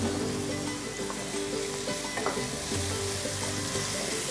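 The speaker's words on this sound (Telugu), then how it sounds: "అంటే ఆయిల్లో ఫ్రై అయితే కారం కొంచెం బాగుంటుంది కదా" Chili powder frying in hot oil, a steady dense sizzle with faint stirring clinks, close and continuous with no talking.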